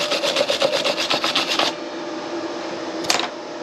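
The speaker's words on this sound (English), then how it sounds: "I don't even really have a good wire brush" A wire brush scrubs over a stick weld in quick, rhythmic rasping strokes close by, stops, and after a pause gives one short final scrape.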